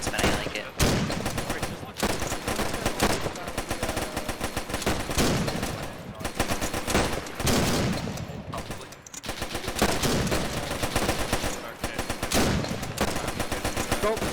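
Rifle fire during a Guards Armoured Division live-fire exercise in a Tunisian desert military game scenario crackles almost without pause as loud, dense volleys of rapid shots, with a voice talking at times beneath it.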